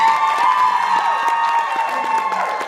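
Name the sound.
audience applause and cheering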